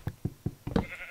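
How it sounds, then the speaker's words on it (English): Four short blocky sheep bleats from Minecraft, evenly spaced and fairly close, the last one longer and layered, heard alone with no talking. "Sheep! What are you doing in here?"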